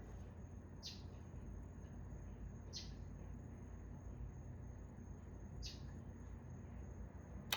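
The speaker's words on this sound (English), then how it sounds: "If you heard that bird in the background" A bird gives three or four short, high chirps spaced a couple of seconds apart, faint and distant over a steady low background hum.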